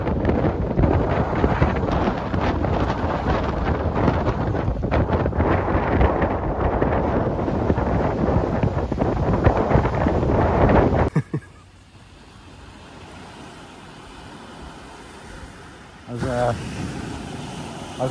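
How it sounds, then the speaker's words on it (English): Strong wind batters the microphone on Chesil Beach, a loud continuous roar and buffeting that cuts off abruptly partway, leaving quieter surroundings with a brief gust near the end. "I thought, well, it's a bit windy."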